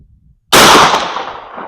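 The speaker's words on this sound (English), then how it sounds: "here's first shot" A shotgun firing an LBC sabot slug at an outdoor 80-yard range: one sudden, very loud close blast after a quiet moment, followed by a decaying echoing tail.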